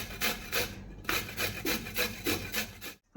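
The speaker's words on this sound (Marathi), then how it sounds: "यामध्ये आता मी थोडंसं गाजर किसते" Carrot is grated by hand for veg manchurian, producing rhythmic rasping strokes, about six to seven in quick succession, close and fairly soft, ending in a brief pause.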